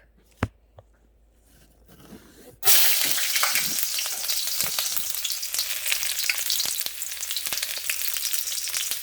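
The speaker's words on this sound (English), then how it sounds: "Now in the pot, I've put some avocado oil, and as you can see, the oil is hot. So I'll first put garlic." Garlic drops into hot avocado oil in a pot for veg chowmein and bursts into a loud, steady sizzle that continues throughout after a couple of faint clicks, with no talking.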